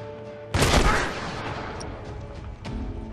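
A loud burst of enemy gunfire erupts in The Last of Us, a dense crackling volley that decays into a rumbling tail, followed by a fainter second shot a couple of seconds later.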